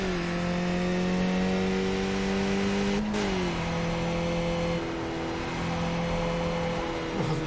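A Skip Barber race car engine in the iRacing sim holds a steady droning tone that dips and shifts pitch as the car changes gear, with no one talking.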